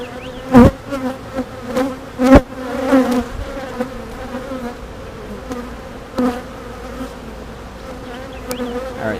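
Honey bees drone steadily around an open hive, a dense layered buzz with individual bees zipping close past now and then, plus a few soft knocks and handling sounds.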